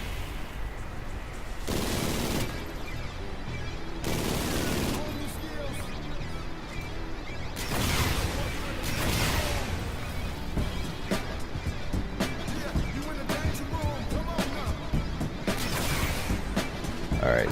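Video game gunfire at an outdoor rave area in the redwoods, heard as dense bursts of rapid shots and loud, sharp volleys that repeat throughout, close and harsh, with a voice talking over it.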